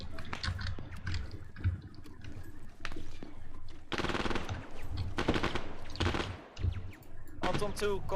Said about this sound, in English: Contact south, Lee Enfield.